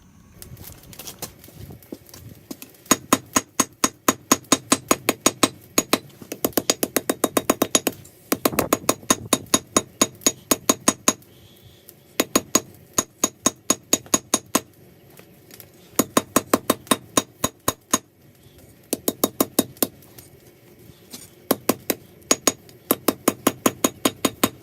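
A hammer flattens a knife blade forged from a horseshoe, ringing out in fast, loud metallic strikes grouped in repeated bursts with short pauses between them.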